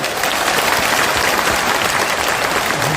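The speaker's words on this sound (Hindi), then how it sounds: "जोर से ताली बजाएं।" An audience at a political gathering in Bihar claps loudly and steadily, a dense wash of applause with little speech.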